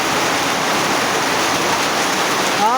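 Heavy rain pours down in the town of Debre Birhan, Ethiopia, making a dense, loud, unbroken hiss that stays steady from start to finish with no voices.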